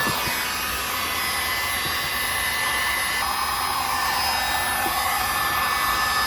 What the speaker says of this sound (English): I'm going to use a heat gun, and I'm going to heat that up and shrink it down